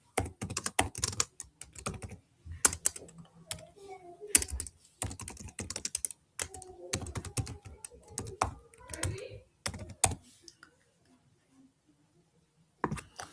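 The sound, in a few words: typing on a computer keyboard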